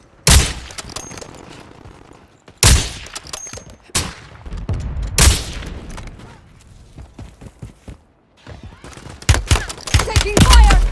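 Bursts of automatic gunfire in a Call of Duty Warzone match, several sharp loud volleys spaced across the stretch with brief quiet gaps, the last run of shots rapid and close.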